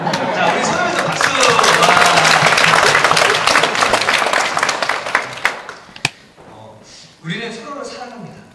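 A church congregation applauds at a Sunday afternoon praise service, loud dense clapping for about five seconds that thins into a few scattered claps. A voice speaks over the fading end.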